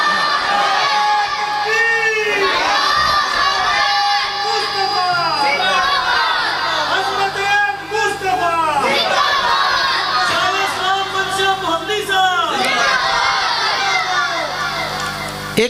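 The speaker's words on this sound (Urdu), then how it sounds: "آپ میں سے کوئی نعرہ تکبیر بلند کرے ذرا" A large crowd at an Allah Hu Akbar religious conference in Pattoki chants the takbeer slogan, many voices rising loud and close in repeated surging waves that carry through the whole stretch.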